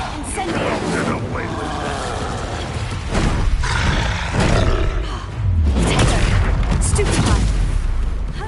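An Incendio fire spell cast in Hogwarts Legacy bursts out in roaring blasts of flame amid loud, booming battle impacts and grunts, with the rumbling growing heavier toward the end.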